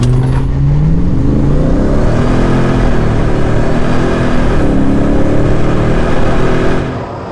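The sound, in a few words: Hennessey Raptor 700 and F250 trucks revving and accelerating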